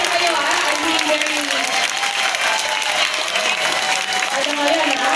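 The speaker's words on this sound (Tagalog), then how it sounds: "Palakpak, mas tumataas yung palakpak." An audience at a year-end assessment event applauds loudly and continuously, a dense wash of clapping that fills the whole stretch without pause.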